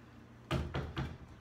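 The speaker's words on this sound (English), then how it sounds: "Oh, there's someone at the door." Three firm knocks on a door, evenly spaced and fairly close, sound over an otherwise quiet room.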